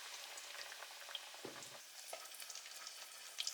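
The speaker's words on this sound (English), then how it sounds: "dip in tempura flour and deep fry until golden brown" Tempura frying in hot oil while making a Japanese bento, a steady faint crackling sizzle with soft stirring clinks and a brief low clatter partway through.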